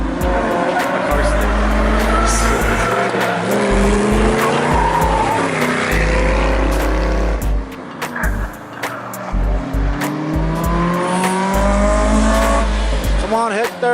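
Race cars, including a Miata chased by a Focus, drifting around a track with loud, long tire squeals and engine roar, while people talk excitedly over the noise.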